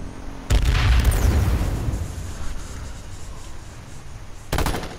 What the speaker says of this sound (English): They throwing grenades.